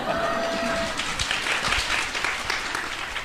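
An audience at a Korean book concert claps after a wedding congratulation, a steady moderate patter of applause heard from a distance, with some faint voices mixed in.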